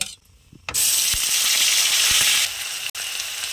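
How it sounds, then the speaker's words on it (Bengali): A ground onion, ginger and garlic paste hits hot oil tempered with nigella seeds and bay leaves, bursting into a loud, sustained hiss after a quiet start; the sizzle eases a little near the end with one brief break. "পেঁয়াজটা দিয়ে দিয়েছি, একটু ভালো করে আমি ভেজে নেবো"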